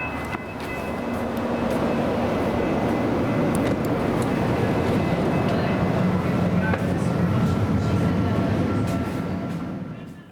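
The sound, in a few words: commuter train at Union Station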